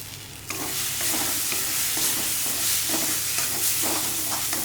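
Ingredients for Srirangam pulikuzhambu sauté in a pan with little oil, a loud close sizzle starting suddenly, with repeated scraping strokes of a spoon stirring through it, no voices.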